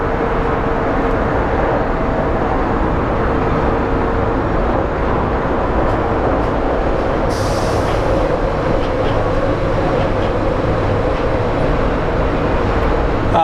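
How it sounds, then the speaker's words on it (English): A passenger plane departing Phoenix Sky Harbor airport for Palm Springs produces a loud, steady, broadband jet roar that holds for about thirteen seconds, heard from the ground nearby. "So let's watch our plane depart for Palm Springs."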